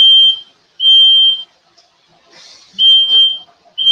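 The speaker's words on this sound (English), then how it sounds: "Smoke alarm, all that steam" A smoke alarm set off by steam shrills in sharp, high repeated beeps, each lasting about half a second with pauses between, loud and close, with faint indistinct sounds in one of the gaps.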